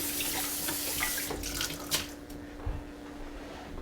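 A kitchen tap runs steadily while hands slippery with pineapple juice are rinsed under it, with a continuous hiss and a few splashy bursts from the sink partway through.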